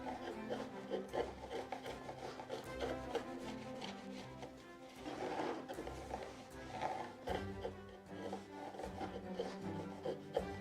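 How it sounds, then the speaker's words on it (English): Wood is being smoothed by sanding or rasping along a curved bevel in the Minecraft modpack MC Eternal 2, with repeated rough rubbing strokes in an uneven rhythm, fairly faint and with no talk. "I guess it's just the chisel. So I will have to try to make this relatively smooth,"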